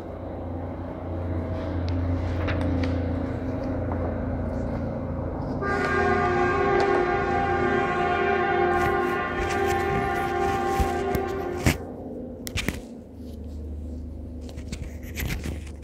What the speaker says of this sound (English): Let the train pass, friend.